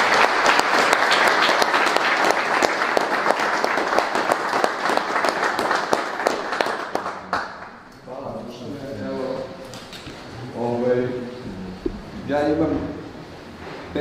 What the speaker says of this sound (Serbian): dajte mu za početak jedan onako aplauz